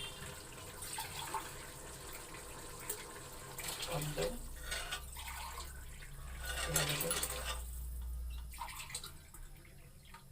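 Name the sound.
pouring measured water into pot for pulao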